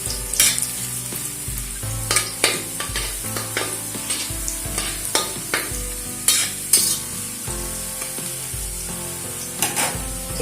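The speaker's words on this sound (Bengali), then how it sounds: "গাজর আর মটরশুঁটিটা একসঙ্গে ভেজে নেব।" Carrots and green peas fry in a pan for winter vegetable khichuri, a steady sizzle broken by repeated scraping stirs of a spatula, close and clear with no talking.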